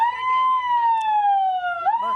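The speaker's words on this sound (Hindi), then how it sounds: "ये मैडम सायरन बजा दीजिए, दिखा दीजिए लोगों को।" A loud electronic siren at a school mock drill in Srinagar wails with a steady, slowly falling tone, then dips and rises again near the end, clear and close.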